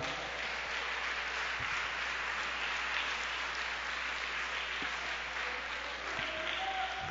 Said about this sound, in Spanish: Denle un aplauso fuerte al Señor, hermano.